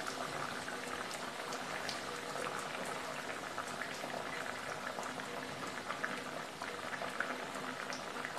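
Bread kachori frying in hot oil in a kadai, a steady dense bubbling sizzle with fine crackles running evenly throughout, close and moderately loud with no talking.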